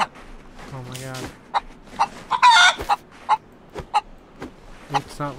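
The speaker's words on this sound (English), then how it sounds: "I hear a chicken too." A DayZ chicken clucks repeatedly at close range in short, uneven bursts with one louder squawk, and a person talks briefly over it.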